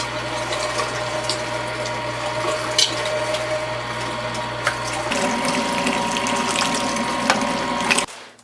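A meat grinder churns bear meat for breakfast sausage, a steady mechanical whir with rattling, grinding texture and occasional clicks, running close and continuous before cutting off abruptly.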